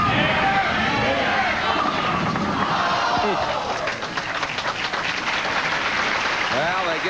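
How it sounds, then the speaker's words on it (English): Applause and a cheering crowd for a hometown bowler at the 1984 Indianapolis Open, steady and loud throughout, with commentator-like voices mixed beneath it. "they give him a big round of applause"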